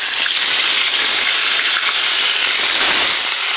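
Ginger-garlic paste hits hot oil in a cooking pot while taro is being prepared, giving a steady, loud broadband sizzle and hiss that holds evenly throughout with no talking.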